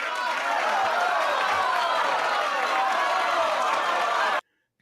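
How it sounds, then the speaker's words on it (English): An awards-show audience applauds, a dense steady wash of clapping and crowd noise that cuts off abruptly near the end. "That was a very distinguished applause"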